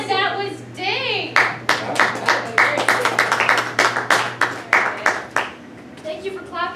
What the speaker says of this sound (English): Thank you for clapping, we really appreciate it